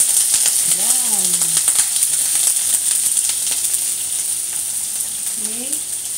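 Onion fries in hot cooking oil, giving a loud, steady hiss and sizzle close by, with a few brief voice-like pitch glides over the constant frying.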